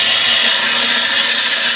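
Wooden bowl from scrap wood spinning on a lathe as a turning tool tip is dragged across for a finishing cut, a loud, steady, hissing scrape with no pauses.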